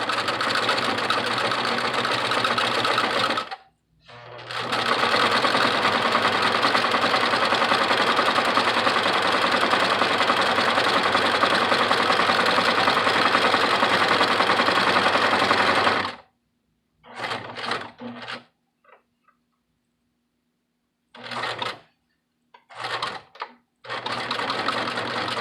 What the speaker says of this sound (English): top stitch the top of the brim